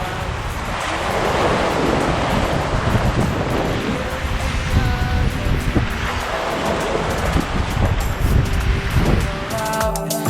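Surf rolling onto Nacpan Beach in the Philippines, a steady broadband wash of breaking waves with wind buffeting the microphone, continuous and fairly loud over the full stretch.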